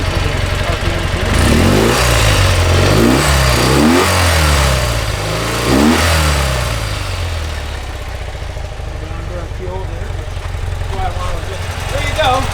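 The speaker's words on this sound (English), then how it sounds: "I'm going to see how well it runs through the RPMs here" A 1978 BMW R80/7 motorcycle engine revs up and down through its RPM range several times in a row, loud and close, with rising and falling sweeps before settling toward idle.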